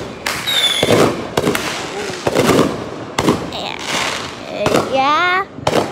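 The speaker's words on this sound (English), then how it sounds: "Yeah, look at those fireworks." Independence Day fireworks bursting in a rapid series of sharp bangs and crackles, loud and close, with whistling rockets rising near the end and people cheering and talking between explosions.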